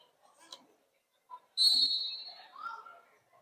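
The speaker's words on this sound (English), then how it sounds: "And that'll be the whistle for Jam 18." A referee's whistle starts a roller derby jam, one sharp shrill blast about halfway through that trails off, with faint arena noise and brief sounds around it.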